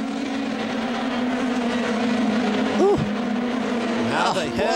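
Formula 3000 race cars at Monza in 2002 roar in a loud, steady high-revving drone, with sharp rising and falling engine whines as cars sweep past near the end.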